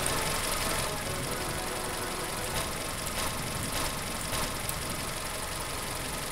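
A car engine idles and runs steadily in Dude Simulator 3, a dense continuous rumble with faint knocking that fills the whole stretch without a break.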